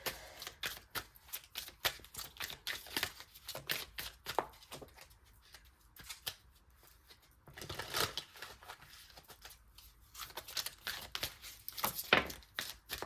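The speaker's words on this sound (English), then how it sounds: "let me shuffle the deck real quick" Rapid papery riffles and flutters of cards being shuffled, in quick bursts with short pauses between, close and fairly quiet.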